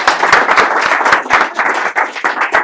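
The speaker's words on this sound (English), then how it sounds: "So can everyone please just give her a hand of applause?" An audience at a talk on good and bad debt gives a burst of applause, with dense, close hand claps running continuously at a fairly loud level and no speech over them.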